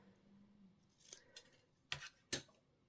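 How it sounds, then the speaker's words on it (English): Scissors snip a narrow strip of paper for a greeting card, making a few short, crisp cuts. The cuts come quiet and close, in an uneven rhythm, with two sharper snips near the end and no talk. "I'm just going to take my scissors and angle the ends."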